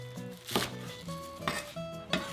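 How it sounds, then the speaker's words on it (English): A knife chops scallions into large bunches on a cutting board for a Hainanese chicken rice broth, landing three sharp, separate strikes at a slow, steady pace, close and clear over a faint kitchen hum. "We're going to cut our scallions"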